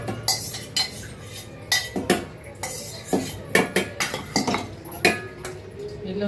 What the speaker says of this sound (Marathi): आता मी दही ह्याच्यात टाकणार आहे.